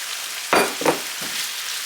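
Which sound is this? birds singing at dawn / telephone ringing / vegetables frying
vegetables frying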